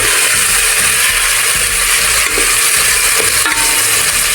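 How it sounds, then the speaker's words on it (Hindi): Beef is stirred into spices in a cooking pot, making a loud, continuous sizzle with repeated scraping strokes throughout. "गोश्त मैंने शामिल कर दिया, तो अच्छी तरह से मिक्स करते हैं।"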